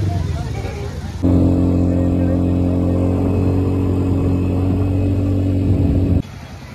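Steady vehicle engine drone during a ride at Alibag beach on the coast, a loud, continuous low hum that starts abruptly and runs evenly before dropping off, with background crowd chatter.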